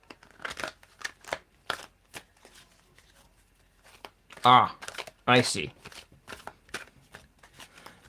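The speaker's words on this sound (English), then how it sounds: "Maria, tell me when to stop shuffling." A deck of cards is shuffled, with soft riffling flicks and two louder bursts of cards cascading near the microphone, set among sparse, quiet handling noises while a person speaks briefly.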